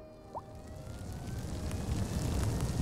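Fire truck siren in the video game Cities: Skylines II, a rising wail that swells over a dense rumbling game soundscape, growing louder toward the end.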